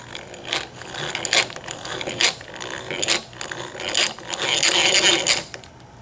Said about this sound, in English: Now you're going to get your drill.